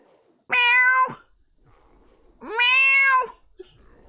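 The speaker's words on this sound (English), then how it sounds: "Meow." A cat gives two loud, clear meows close by, each about half a second to a second long and separated by a pause, with a faint small sound after the second.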